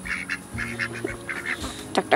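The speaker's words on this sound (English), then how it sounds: "Look at the ducks are having a blast out there." Ducks quack outdoors in a run of repeated calls, moderately close, with a few louder honking notes near the end over a steady low background hum.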